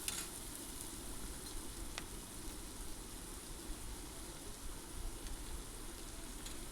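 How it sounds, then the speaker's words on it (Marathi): Tomatoes roasting in a pan with onions and spices for a veg pulao, giving a faint, steady sizzle and frying crackle with no talk. "टोमॅटो पण छान असा कांद्यांसोबत आणि मसाल्यांसोबत व्यवस्थित असा भाजून घ्यायचा आहे"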